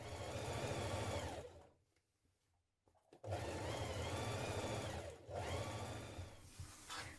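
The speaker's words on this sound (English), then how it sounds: "So stitch down this front first of all" A sewing machine stitches down the front of a vintage-style Simplicity 8769 coat, running in a steady close whir, stopping for about a second and a half, then resuming in two longer runs.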